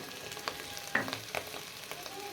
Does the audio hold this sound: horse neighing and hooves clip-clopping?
no